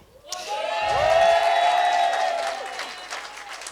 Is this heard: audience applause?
yes